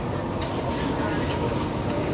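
Metro Express train on the Rose Hill line arriving at a station, a steady loud rumble and rolling rail noise filling the whole stretch, with crowd chatter and voices mixed underneath.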